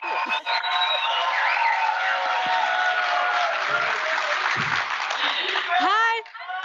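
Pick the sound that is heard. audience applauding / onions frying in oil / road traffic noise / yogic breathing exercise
audience applauding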